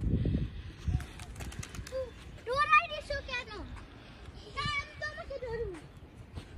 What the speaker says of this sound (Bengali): কবুতর আসছে, মনে করছে খাওয়া দিবে